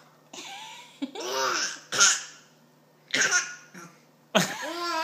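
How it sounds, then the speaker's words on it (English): A child hiccups repeatedly at a dinner table, giving short sharp bursts at uneven intervals that blend with giggly, laugh-like vocal sounds, close and fairly loud. "You giving yourself the hiccups?"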